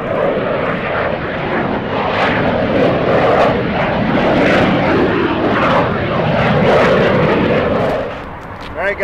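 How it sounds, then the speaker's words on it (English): E-Flite F-4 Phantom II RC jet with an 80mm electric ducted fan flying at an airfield: a loud, sustained whooshing roar that swells and fades as it passes, with someone talking over it. "E-Flite F-4. Great flying airplane, great performance, really looks good."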